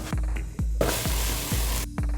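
Onion, garlic and a bay leaf sizzling in hot oil, a steady bright crackle with a few soft thumps and stirring knocks, close and continuous.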